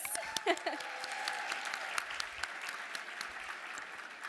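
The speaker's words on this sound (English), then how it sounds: "And yes, please clap again for Mr. Lewis." An awards-ceremony crowd claps steadily for several seconds, a dense patter of hands at moderate volume with a few brief sounds rising above it.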